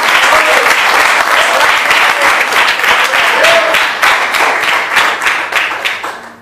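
A church congregation bursts into loud, sustained applause, dense clapping from many hands close by that holds steady and then fades toward the end, with a few voices faintly mixed in.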